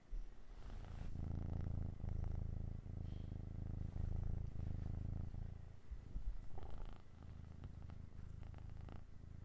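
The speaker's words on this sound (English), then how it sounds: "Her purrs are adorable." A female cat purrs steadily and close up in a continuous low rumbling drone that swells and fades with each breath, soft and quiet throughout.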